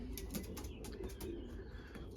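Young racing pigeons coo softly inside a loft, low murmuring calls repeating under a steady bed of nearby bird activity, with faint chirps and a hint of wing movement.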